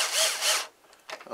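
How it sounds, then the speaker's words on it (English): A power drill fitted with a big bit whirs in two short bursts while running screws in during a Kadet LT 40 model airplane build, followed by faint clicks and handling noises. "I've got a big drill bit in here, and I'm just going to run them up with this"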